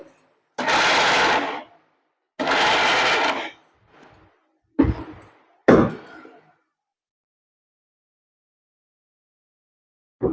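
Kitchen mixer grinder pulsing garlic into a coarse lentil spice powder, two loud sustained whirring bursts of about a second each, then a faint blip and two shorter sharp pulses, separated by silence.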